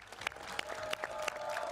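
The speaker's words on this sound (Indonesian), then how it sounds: "Tepuk tangan dong buat Angga Fauzan" Audience applause for a guest on an Indonesian talk show, a short burst of scattered clapping with distinct individual claps over a continuous crowd patter.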